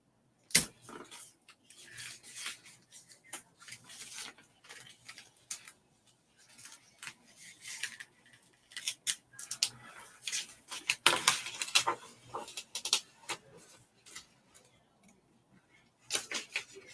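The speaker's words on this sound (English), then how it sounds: "I'm going to have to use some scissors to cut that." Scissors snip through printable transfer paper in a series of irregular, close crisp cuts and clicks, with quiet pauses between bursts and no talking.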